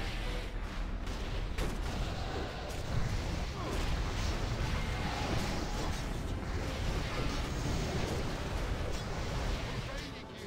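Heavy rumbling booms and blasts of mortar fire roll continuously, dense and loud, with voices buried underneath the barrage.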